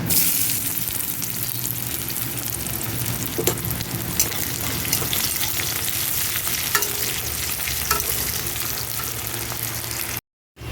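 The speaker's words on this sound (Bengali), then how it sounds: "মাছের ঝোলের জন্য ফোড়নে দিয়ে দিচ্ছি কালো জিরে, আর দিয়ে দিচ্ছি পেঁয়াজ" Black cumin seeds and onion fry in hot oil as the base for a fish curry, giving a loud, continuous sizzle and crackle with occasional stirring clinks, then a brief cut to silence near the end.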